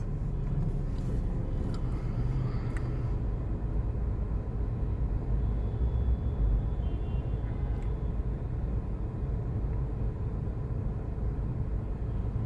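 Road traffic in a congested street with taxis blocking the way, a steady low engine rumble from cars and trucks throughout, with a few faint higher tones near the start.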